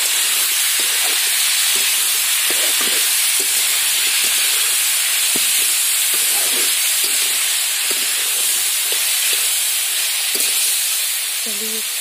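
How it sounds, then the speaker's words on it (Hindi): Potatoes and onions, chopped together, fry in a home kitchen pan. The sizzle is a steady, bright hiss for the whole stretch, with soft clinks and stirring taps scattered through it. "उसके बाद आलू और प्याज को मैंने एक साथ काटा है ताकि दोनों एक साथ भुंज जाए"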